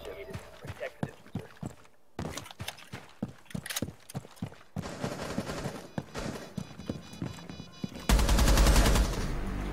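Shotgun fire in Rainbow Six Siege comes as a string of sharp, evenly spaced reports, with a short gap and then denser shooting, ending in a loud sustained blast of noise.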